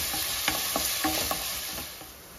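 Onions for poha fry in a pan while being tossed, a brisk sizzle broken by several quick scraping stirs in a short burst, close and with no voices.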